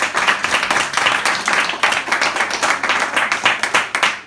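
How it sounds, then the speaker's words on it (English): An audience claps a round of applause at an evening ceili band event at the Ulster Fleadh 2022; dense, continuous clapping from many hands, steady and fairly loud throughout. "Give Michael a big round of applause for that."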